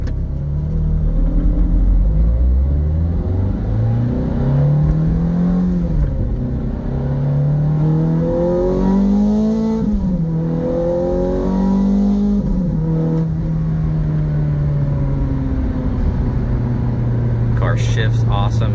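A Ferrari F430 Scuderia engine revs up and down loudly, its pitch rising and falling in swells with a deep rumbling idle underneath.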